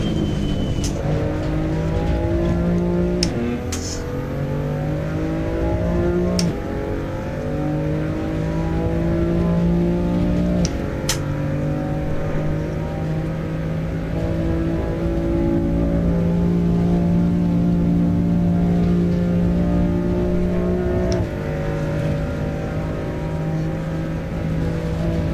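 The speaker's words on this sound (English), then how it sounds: "Really nailed the tyre sound though" Race car engine in the iRacing sim, loud and sustained for the whole stretch, with shifting harmonic whine as revs rise and fall and brief squeals of tyre rubber on the track.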